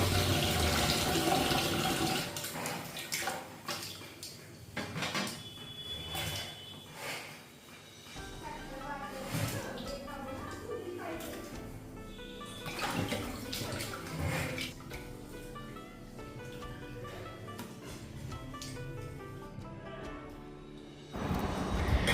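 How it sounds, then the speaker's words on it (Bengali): Cut fish being washed in water in a home kitchen, with steady running and splashing water that continues throughout, close and fairly loud, with faint background voices. "তো মাছগুলো আমি কেটে নিয়েছি, এখন আমি ধুয়ে নেব।"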